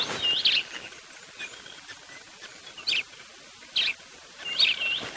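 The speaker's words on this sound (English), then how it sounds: "there's a grey-headed sparrow calling." A grey-headed sparrow calls at dawn at Djuma Game Reserve. Four short, high chirping bursts are spaced a second or so apart, clear and fairly near, over quiet morning air.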